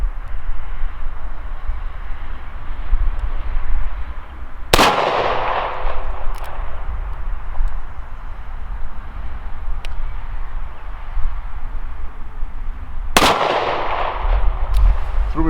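Two sharp double-action shots from a Taurus Model 85 .38 Special five-shot revolver firing old training rounds at a 15-yard range, each a loud crack with a decaying tail over steady outdoor background noise, several seconds apart.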